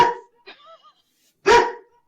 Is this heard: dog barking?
yes